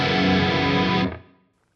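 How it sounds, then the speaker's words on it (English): A heavy chorused electric guitar tone from a Fractal preset rings out as a thick, distorted sustained chord, then cuts off and decays away quickly. "Our heavy chorused tone sounds like this."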